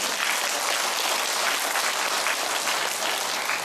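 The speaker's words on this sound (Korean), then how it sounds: "꼭 돈 얘기를 해야 박수가 나요." Steady, dense audience applause at a church charismatic renewal gathering, a full crowd clapping continuously at even loudness from start to finish with no speech over it.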